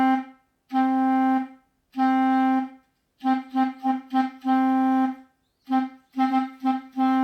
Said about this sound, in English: and my tongue is creating the silence by stopping the reed.